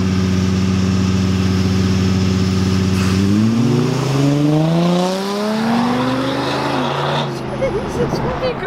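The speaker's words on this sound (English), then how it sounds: "We're gonna go drift." A car engine idles steadily, then revs hard while the car drifts. The pitch climbs and wavers through rising, sliding sweeps, loud and close throughout.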